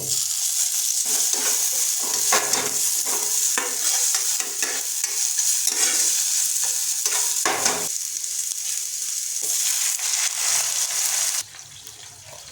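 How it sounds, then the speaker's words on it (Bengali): Chopped onion and tomato fry for an egg curry with dried red chili, giving a loud, continuous sizzle with repeated scraping stir strokes from a spoon, which ease off near the end. "সামান্য পরিমাণে কোচা পেঁয়াজ নেড়ে নেব এটাকে আর আমরা যোগ করবো সামান্য পরিমাণে কুচিয়ে রাখা টমেটো"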